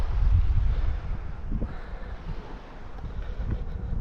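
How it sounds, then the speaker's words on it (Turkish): Gusty wind at a seaside cove roars and buffets close to the microphone, a constant low rumble that rises and eases slightly with no voices. "Biraz rüzgarı fazla buranın, onu fark ettim. Bayağı bir rüzgar esiyor."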